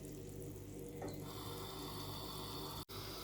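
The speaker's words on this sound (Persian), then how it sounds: "آب و جوش رو میریزم." Boiling water poured into a cooking pot while making Tabriz kofta, a steady close-up liquid rush that runs throughout with a short break near the end, no speech.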